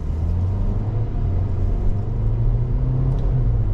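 The 2024 Kia Seltos SX Turbo pulls away, its engine giving a steady low rumble and whir from inside the cabin at an even, moderately loud level, with no one talking.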